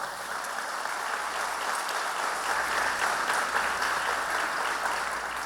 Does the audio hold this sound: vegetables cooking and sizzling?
no